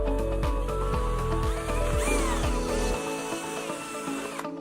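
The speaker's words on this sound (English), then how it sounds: "drill a second hole much closer to the edge of the cup" A power drill whirs in short revving bursts, then a higher whine as a 15/64-inch bit bores through a thin plastic cup, close and fairly loud.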